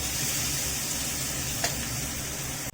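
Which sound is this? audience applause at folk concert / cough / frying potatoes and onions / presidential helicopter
frying potatoes and onions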